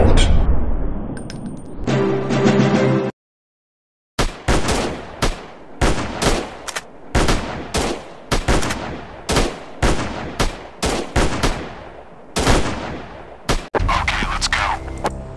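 Rapid gunfire from a Special Strike counter-terrorist 3D shooting game on Android: sharp shots cracking in quick irregular succession, with a dense burst at the start, a brief silence, then steady repeated bangs.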